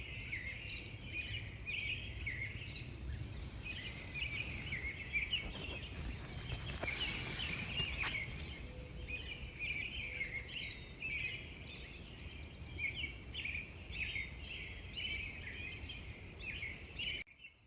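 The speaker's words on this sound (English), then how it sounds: "Hear that racket out there? Yeah, that's the robins." Dense, continuous dawn chorus of robins with overlapping chirps and warbles, fairly loud and steady throughout, with no voices, at a lakeside campsite.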